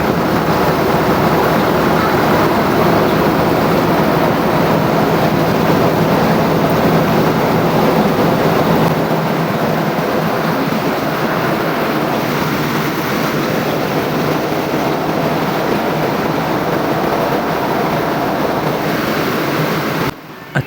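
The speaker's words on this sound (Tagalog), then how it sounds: "Dito nga ay umandar ng tuluyan at sisimulan natin paano gilingin na rin palay natin." An antique rice milling machine from Mindoro grinds palay, a loud, steady mechanical roar and rattle that holds without a break for about twenty seconds before cutting off abruptly.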